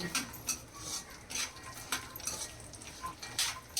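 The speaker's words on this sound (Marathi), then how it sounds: "बदाम बदाम आणि काजू चांगलाच भाजून घेऊया आणि हे पण अक्रोड बदाम अक्रोड आणि काजू सोबत भाजायचे" Almonds, walnuts and cashews roasting in a pan for methi laddu, stirred with a utensil that gives steady close scraping and light clinks over a continuous background hiss.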